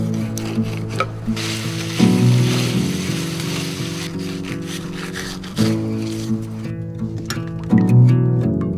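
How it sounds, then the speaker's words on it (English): Steady sizzling of fish frying in a pan, with occasional scraping and stirring clatter over a constant low hum nearby, inside an ice-fishing hot tent with a wood stove. "The last bit of fish is frying."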